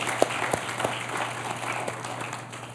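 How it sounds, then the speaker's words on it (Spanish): Applause from a church congregation as a service draws to a close: a steady wash of many hands clapping, with a few sharper individual claps standing out, over a low constant hum. "Le doy un aplauso al Señor"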